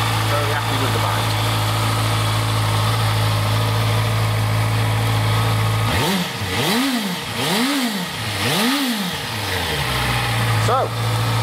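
A 2015 Honda CB650F motorcycle engine idles steadily nearby, then revs up and down several times in quick succession, rising and falling in pitch before settling back to idle.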